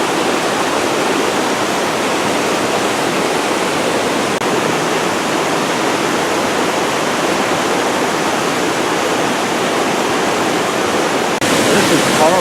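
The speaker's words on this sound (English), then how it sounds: "there's another waterfall" A Costa Rican waterfall roars in a dense, unbroken wash of rushing water that holds steady and loud throughout.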